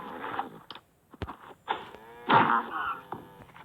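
Cattle in the video game Survivalcraft 2 give several drawn-out moos, loud and close, with short clicks and buzzing in the gaps between calls.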